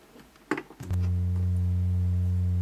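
Serge modular synthesizer oscillator passed through a VCA, a few clicks and ticks followed by a steady, loud, low droning tone that holds without change.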